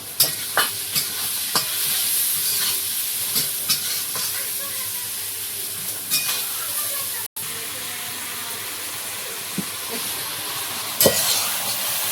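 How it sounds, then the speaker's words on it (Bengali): Spice paste with cumin powder sizzling and frying in a pan while being stirred, steady hiss with scraping stir strokes throughout, close and continuous with no talking. "একটুখানি জল দিয়ে মশলাটা রেডি করে নিয়েছি কষিয়ে"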